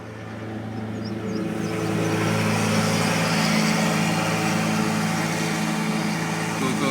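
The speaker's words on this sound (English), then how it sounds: "Oop, got a lawnmower going." Lawnmower engine running outside, a steady droning hum that swells slightly after the first second and holds at a constant level throughout, with no talk over it.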